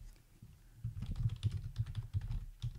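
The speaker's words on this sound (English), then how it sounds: "When I type on my keyboard, the V key does not always come out." A computer keyboard is typed on in a quick, uneven run of soft clicks and taps, close and fairly clear, after a brief quiet start.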